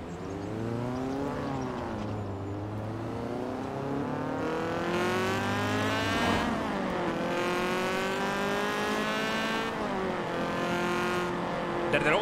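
A 2007 Honda Civic Type-R, driven in the video game Forza Horizon 4, revs its engine repeatedly through rising gears, with each climb cut by a sharp shift as the loud, buzzy note swells again, and a voice talks softly underneath.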